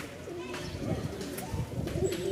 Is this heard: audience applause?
no